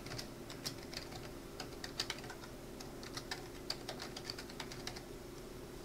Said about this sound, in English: so you can type in your email address